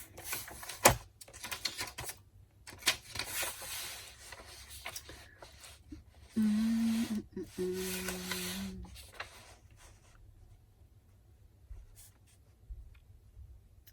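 Paper being cut with scrapbooking tools for a mini album, a series of close dry scraping and rubbing strokes broken by pauses, with a brief low tonal hum partway through and no speech.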